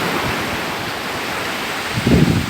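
Sea waves wash onto the sandy beach at Side, Antalya, a steady broadband surf hiss with a slightly louder surge near the end, close and unbroken by voices.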